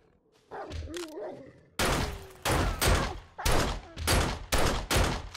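Gunfire from 7 Days to Die aimed at a zombie: after a quiet growl-like opening, about six loud broadband shots ring out at a steady, spaced rhythm, each decaying quickly, with no talk.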